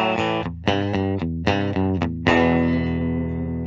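A 2021 Fender Japan Supersonic electric guitar on its bridge pickup, with a bright, distorted tone, plays a few punchy chords in a choppy rhythm, then lets a final chord ring out.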